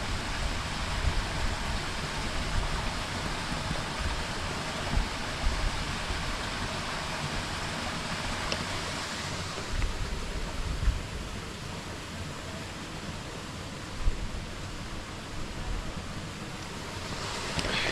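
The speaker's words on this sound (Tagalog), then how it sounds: "Yung agos lang ng tubig, yung naririnig mo." Water flows in a river or stream in Norzagaray, Bulacan, a continuous broad rushing wash heard close and steady, with a gusty swell at times and no voices.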